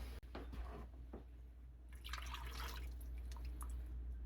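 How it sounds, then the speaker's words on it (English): Whole milk pours into sausage gravy in a pan, a faint wet trickle and splash over a low background hum, with a few soft drips before the stream swells slightly. "We're going to add in 3 cups of whole milk."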